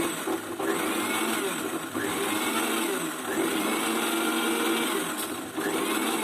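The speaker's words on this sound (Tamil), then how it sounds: "மிக்ஸி வெறும் பல்ஸில் மட்டும்தான் இருக்குது" A mixer grinder blending egg yolk for mayonnaise whirs loudly and steadily, with a couple of brief dips where it pulses off and back on.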